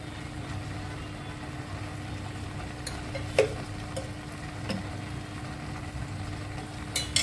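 Two ladles of oil go into a hot pan for a Rishi Panchami vegetable dish, giving a low, steady sizzle with a few sharp utensil clinks, quiet and without talk.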